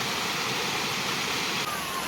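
A small roadside waterfall in Kodaikanal gives off a continuous, even rush of falling water, close and unbroken throughout the short stretch.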